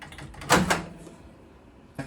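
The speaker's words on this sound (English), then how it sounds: "So if I just open the door," A Sharp 20L 800W microwave door with grill function being opened: a clicking latch release and swing around the middle, then a second short knock near the end, fairly close with no talking.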